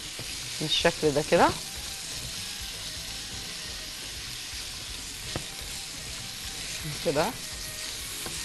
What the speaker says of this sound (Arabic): وهبدا انزل بالمشروم برضو، عايزه اديله تشويحه اهو